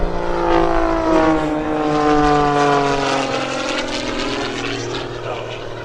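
An MX-S aerobatic propeller plane flies at the 2012 Rhode Island airshow at Quonset, its loud engine drone holding steady and shifting in pitch as it passes. No voices are heard.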